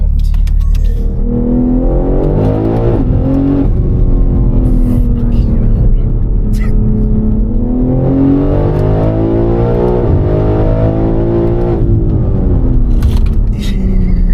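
A 1400hp BMW M3 accelerates hard with three people aboard, its engine roaring loud and close with rising pitch through two long pulls and a gear change between, jet-like whine over a deep rumble.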